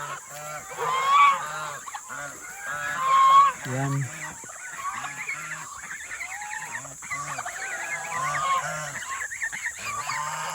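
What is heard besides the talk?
geese honking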